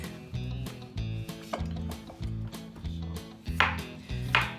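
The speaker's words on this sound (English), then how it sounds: "So I went ahead and peeled some potatoes. We're just going to slice them thin." A knife thinly slices peeled potatoes on a cutting board, giving a steady rhythm of about a dozen crisp, close chopping knocks, each a distinct thud with a short scrape, heard alone without talk.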